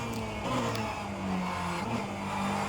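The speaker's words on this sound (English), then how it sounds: "Going in third and then shifting back to second gear." A race car engine in the rFactor 2 sim on the Maastricht track drones steadily and loudly, its pitch dropping and rising as it shifts down from third to second gear.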